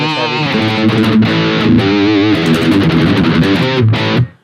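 A distorted electric guitar tone, run through a Hotone Ampero 2 modeler cloning a Quad Cortex and voiced mid-heavy for live use, plays sustained chords loud and close before cutting off abruptly.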